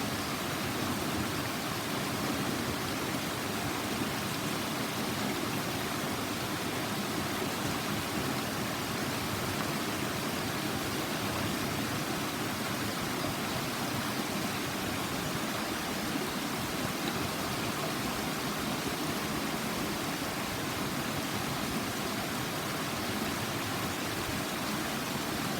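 Stock Ghyll Force, a waterfall in woodland near Ambleside in the Lake District, roars as a steady, dense rush of falling water, close and loud, unbroken for the whole stretch with no voices.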